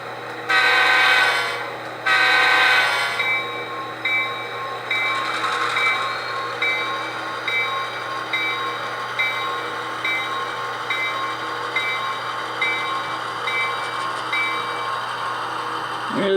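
A freight train with box cars pulls out, its horn sounding twice in short blasts before a steady rumble and squealing rolling noise continue at moderate distance.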